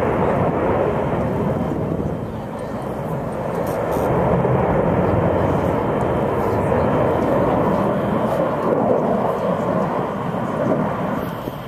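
An F-18 fighter jet flies a demonstration at a 2012 international air show, producing a loud, continuous roar that swells and rumbles throughout.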